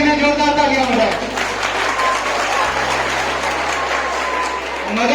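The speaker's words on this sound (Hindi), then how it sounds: "एक बार मदन सर के लिए जोरदार तालियां बजाएं।" Loud applause for a teacher at a Class 10 school farewell party fills the room as a thick, sustained patter of many hands, with a steady low hum beneath and some voices mixed in.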